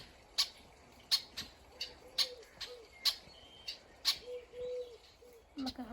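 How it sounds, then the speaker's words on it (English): A wild backyard bird calls near a feeder stocked with peanut-flavored food, giving a series of short, sharp chirps at a fairly steady rhythm with a few soft tonal notes between them, close and moderately loud. "Look how pretty this bird is."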